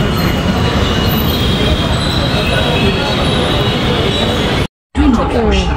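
A metro train's wheels squeal loudly against the rails as it pulls into a station, a dense, sustained metallic screech that cuts off abruptly near the end.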